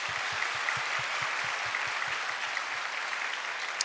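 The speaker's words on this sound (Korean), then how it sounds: "우리 준비위원회에서 크게 한 박수 하겠습니다" A church college-group summer retreat crowd applauds the preparation committee, a dense, even wash of clapping that carries on steadily without talk.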